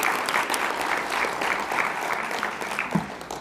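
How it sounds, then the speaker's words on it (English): Applause from an audience at a procurement forum, a steady wash of many hands clapping that holds at an even level for a few seconds with no talk over it. "let's give a round of applause for that"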